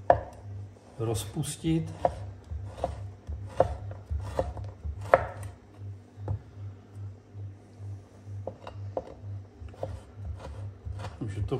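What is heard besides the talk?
chopping bacon into small cubes with a knife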